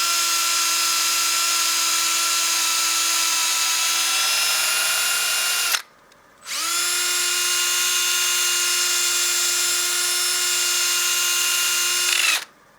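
A wooden bowl spinning on a lathe while being sanded through successive grits, throwing off dust, gives a loud, steady whine with strong tonal harmonics. It runs continuously, cuts out briefly, then resumes at the same pitch until the end.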